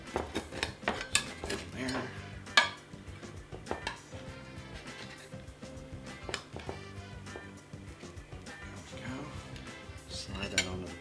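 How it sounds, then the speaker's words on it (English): Potato gratin dauphinois being cut and lifted from a baking dish, with repeated metal utensils clinking and scraping against the dish and plate in irregular bursts, and a voice speaking briefly. "I'm just going to take this and cut this up so we can get it out and serve it"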